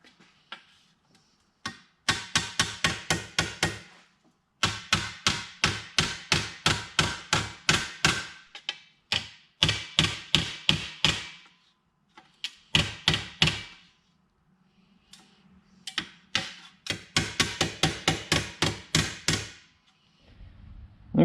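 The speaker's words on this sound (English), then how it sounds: "carefully take a hammer and try to straighten some of this stuff out" A hammer strikes bent trim on a Packard car over and over to straighten it. The blows are sharp metallic taps, close and loud, coming in quick bursts of a dozen or more with short pauses between runs.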